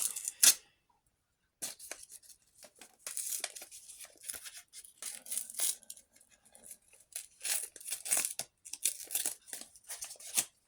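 A paper surprise packet is torn open at its perforated corner, a sharp rip followed by repeated crinkling and rustling of paper, close and quiet, with bursts and short pauses.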